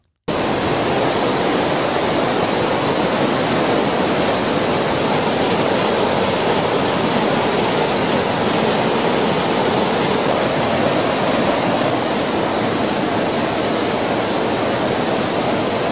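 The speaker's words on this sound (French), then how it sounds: "la cascade de Sousoudé est l'une des merveilles de la commune de Dimboli" Sousoudé waterfall in the commune of Dimboli, spilling into natural pools: a loud, close, unbroken roar of falling water that starts abruptly and holds steady for the whole stretch, with no voices.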